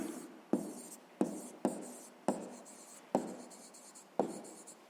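A hand writes out a sixth-grade math solution, six or so distinct pen strokes and taps at irregular intervals, each followed by a soft scratching trail, quiet and close with no voices.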